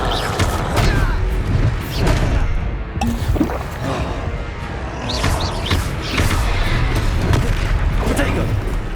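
In the video game Hogwarts Legacy, a Confringo fire spell bursts amid a dense, loud stretch of rumbling booms and crackling blasts, with a player speaking over the din.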